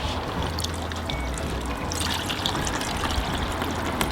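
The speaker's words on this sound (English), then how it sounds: "I'll put a finer filter in that and filter it back into this bucket" Elderflower liquid pours steadily through a fine filter into a bucket, a continuous close trickle and splash of liquid with no talking.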